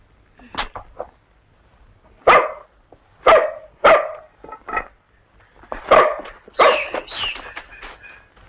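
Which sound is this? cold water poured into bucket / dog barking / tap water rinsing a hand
dog barking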